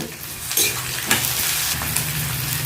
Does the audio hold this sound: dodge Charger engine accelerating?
no